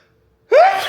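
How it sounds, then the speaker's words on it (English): A single sharp sneeze bursts out after a moment of near silence, loud and close, with a rising, breathy vocal tail. "I told y'all I gotta sneeze"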